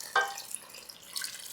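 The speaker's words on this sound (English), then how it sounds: "I'm going to start by adding 2 cups of water." Water is poured into a one-pot pasta e fagioli of pasta and beans: a brief splash at the start, then a soft trickling pour, faint and close, with no speech.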